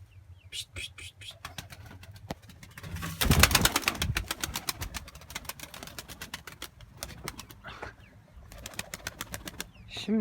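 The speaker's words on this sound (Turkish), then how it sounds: "Bir sürü kuş var şimdi." Pigeons coo and flutter close by in a coop, with a burst of flapping wings and scattered chirps, while a person talks at times.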